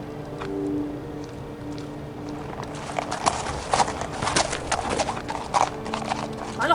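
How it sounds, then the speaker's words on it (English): Horse hooves clip-clop in steady rhythm inside the game What Remains of Edith Finch, close and moderately loud over a faint musical hum, growing busier toward the end. "Sounds like I'm on a horse."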